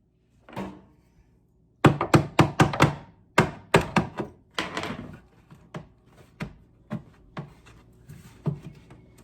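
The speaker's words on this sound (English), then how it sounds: "maybe with a hammer I can knock them out of there" A rapid series of loud, close hammer knocks and clattering thunks of pans stuck in a cupboard, a quick burst followed by slower, softer strikes tapering off.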